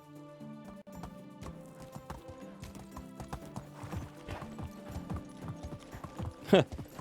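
In the video game Medieval Dynasty, horse hooves clip-clop in a steady trotting rhythm over background music, ending with a sharp, loud neigh near the close.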